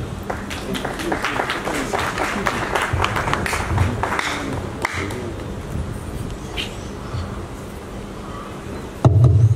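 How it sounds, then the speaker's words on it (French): Applause and scattered cheering from a crowd at a football stadium ceremony rise and continue under a loud public-address voice, with a burst of noise at the end. "Sous vos applaudissements, s'il vous plaît."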